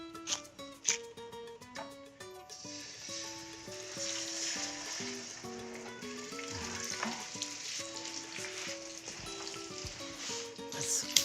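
Loin pork chops, T-bone style, searing in a pan for braising, a steady bright sizzle rising after the first couple of seconds and holding for the rest, with a few clinks and a tonal melody running underneath.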